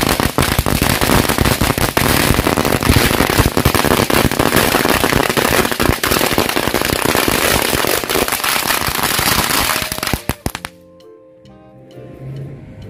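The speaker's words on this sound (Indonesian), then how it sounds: "Yuk langsung aja kita nyalain mercon green lightingnya." A dense, loud barrage of green lightning firecrackers crackles and pops continuously for about ten seconds, then stops abruptly, leaving faint background sound.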